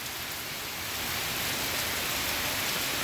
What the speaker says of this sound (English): You can kind of see maybe the rain pounding on my car